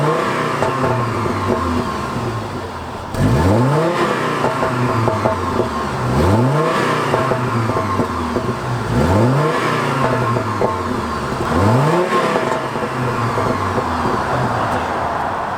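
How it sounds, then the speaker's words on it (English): A car engine is revved in repeated rising bursts about every three seconds, each climbing then falling back, loud and close with no talking, while a homemade smoke machine checks for vacuum leaks. "I'm gonna set the camera down and give it some revs"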